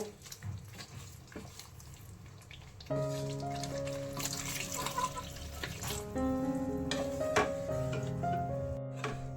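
Water streams into a pot of simmering aloo dum potato curry, a steady splashing pour that starts suddenly and keeps going at moderate loudness, with faint clinks and no talking.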